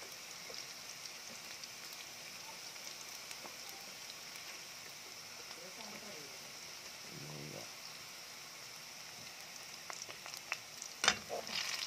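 Ginger sautéing in a pan for ginataang galunggong makes a steady, quiet sizzle throughout, with a few faint clinks and a sharper knock near the end.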